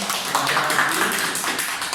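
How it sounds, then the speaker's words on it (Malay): Classmates in a school classroom clap for a student's answer, a dense, steady burst of many hands clapping together for about two seconds, fairly close and lively. "berikan tepukan"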